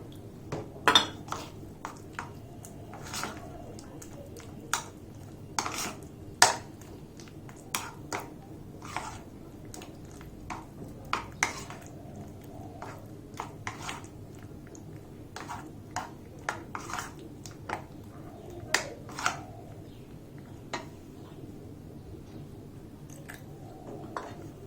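Whole wheat dosa batter with curd and water being stirred in a bowl, a spoon clinking and tapping against the sides in irregular, sharp knocks over a quiet background.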